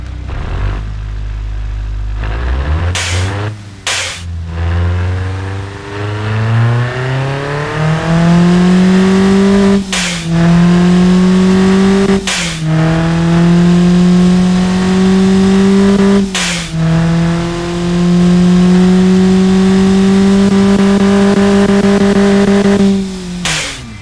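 Ford Sierra RS Cosworth four-cylinder turbo engine revving in the Automation game, repeatedly climbing and holding at high rpm with brief cut-offs between loud, sustained pulls, no voices.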